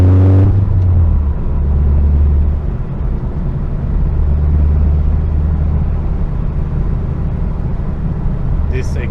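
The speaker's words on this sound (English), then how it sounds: "this exhaust is so loud." Loud, steady exhaust drone from a SAAB 9-5 Aero with a single big muffler, rumbling continuously while cruising, close and dominant with a brief rev at the start.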